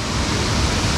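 Steady, continuous rush of running water at a waterfall on Koh Samui, Thailand, a dense broadband roar that holds evenly throughout with no voices.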